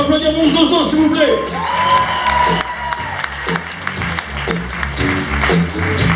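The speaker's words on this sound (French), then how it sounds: "On peut applaudir mon zozo" A comedy club audience at a stand-up show in Nouméa, New Caledonia, breaking into loud continuous applause with cheers and whoops, a voice shouting over it at the start.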